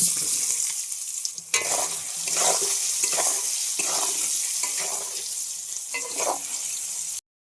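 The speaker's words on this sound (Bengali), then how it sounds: "এবার আমি সয়াবিনগুলো ভেজে নেবো।" Soybean chunks coated in salt and turmeric fry in hot oil in a kadai, a loud, steady close sizzle with repeated stirring scrapes throughout, cutting off abruptly at the end.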